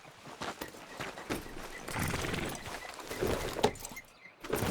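A horse's hooves clip-clop at a walking pace in Red Dead Redemption, soft and moderately close, with irregular thuds and light tack rattles mixed in and no talking.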